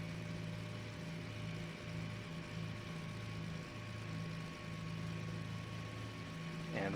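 A flight-simulator Beech BE60 Duke's left piston engine runs up to 1000 RPM, giving a steady, even mid-pitched propeller drone that holds at constant loudness throughout, with a faint rise only at the very end.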